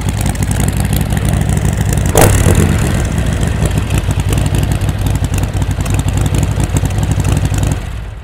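A Harley-Davidson Forty-Eight motorcycle engine runs loud and close, a steady throbbing idle with a brief sharp rise partway through before settling back, heard alone without talk.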